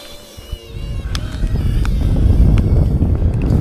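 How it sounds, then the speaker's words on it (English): Wind buffets the microphone in a low, rising roar that grows louder and stays rough and gusty, with faint distant sounds at the start. "It's pretty windy, actually."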